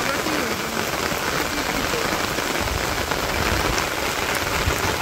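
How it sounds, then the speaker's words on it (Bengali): Steady, dense rain pours down on a Bangladesh village, a loud unbroken hiss of drops striking surfaces that fills the whole stretch with no pauses. "তো খুবই কিন্তু সুন্দর বৃষ্টি বেনছে"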